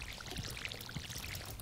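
Crops are watered in the Stardew Valley video game, giving a quiet, brief splashing pour from a watering can with small droplet sounds.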